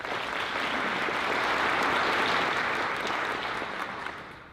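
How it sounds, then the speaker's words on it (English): An audience at a school World Language Honor Society induction ceremony gives a round of applause, a dense, loud, even roar of many hands clapping that swells slightly and then tapers off, with no talking. "So I'd like to give them a round of applause."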